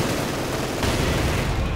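Dense, loud battlefield gunfire and explosions from the video game Company of Heroes 2 with mortar fire, a continuous close barrage with no pauses and no talking.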